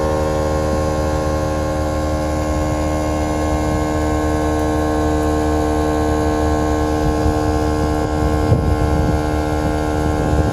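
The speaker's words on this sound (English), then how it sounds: "You can hear the compressor working." An onboard air compressor runs steadily while inflating Air Lift Loadlifter 5000 airbags on a 2017 Ford F450, a constant loud droning hum with no breaks, close by and alone.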